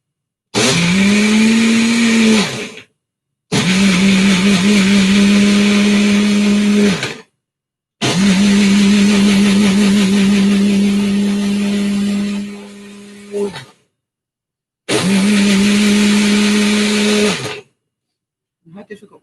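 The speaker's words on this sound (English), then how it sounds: "By the way, I'm going to make a noise." A kitchen blender purees fruit, such as apple, for homemade fruit roll-ups, running in four loud, steady bursts of several seconds each with short silent gaps between them.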